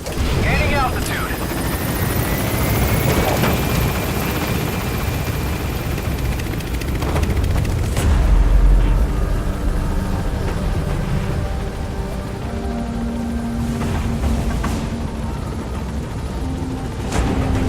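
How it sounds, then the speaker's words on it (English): Helicopter in Metal Gear Solid 5 taking off during an extraction, a steady loud rotor and engine roar with a rising whine, layered with game effects and a brief deeper rumble midway. "Get on the chopper."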